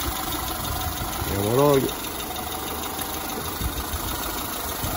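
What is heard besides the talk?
Citroen C3 engine idling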